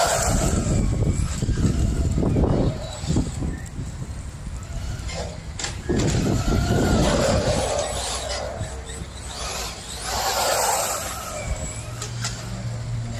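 An RC car with a Mojave 4S center differential running on a 3S battery revs and whines past outdoors, its motor rising and falling in surges, close and loud with rough road noise.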